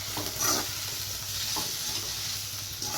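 A spoon stirs salted food in a hot pan, scraping in short repeated strokes over a continuous sizzle, with the sound close and steady and no voices.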